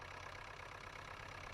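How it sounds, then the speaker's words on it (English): A tractor engine idles steadily in Farming Simulator 19, a low, even rumble with a broad hiss on top, constant and alone throughout. "I'll turn the engine off for a second."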